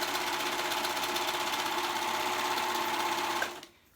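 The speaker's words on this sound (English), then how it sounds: "we're sewing this side up" A sewing machine runs steadily and loudly while stitching up the side seam of a girl's dress, a continuous close whir that cuts off abruptly near the end.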